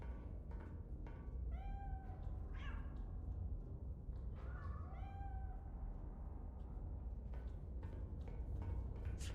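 In the video game Iron Nest, a pet cat gives two clear meows a few seconds apart over a steady low rumbling game background, with no talking.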